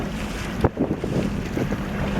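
Wind gusting on open water from a boat heading out for November pike fishing on a cold, snowy day, a steady close rumble of wind noise buffeting the microphone with a sharp gust near the start.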